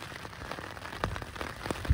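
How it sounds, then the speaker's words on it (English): Steady rain with a little wind patters on a surface with scattered louder drops, a soft wash of noise throughout and no voices. "right on cue, it is raining and a little bit windy"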